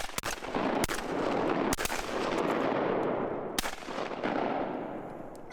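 Shotguns fire at ducks on a Mississippi duck hunt: three loud, sharp blasts with rolling echoes and a steady wash of ambient noise, close by, no voices.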